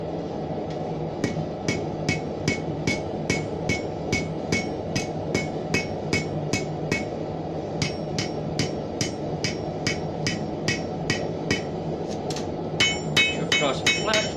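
Hammer blows ring out on steel over an anvil horn while forging a horseshoe keyring hook, a steady run of sharp metallic strikes about twice a second, quickening toward the end, over a low background hum.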